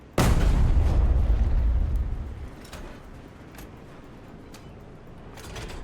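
A single massive cannon blast from a flying Jagdtiger tank firing at a battleship in a video game, an abrupt loud boom that rumbles and slowly decays over two seconds, then faint scattered clanks.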